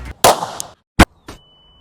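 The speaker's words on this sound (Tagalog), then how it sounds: "Itutok mo sa target yung baril. Tapos, pag ready ka na, iputok." A gun fired at a target produces a few sharp, loud cracks spaced about a second apart, each a sudden burst with short decay and quiet gaps between.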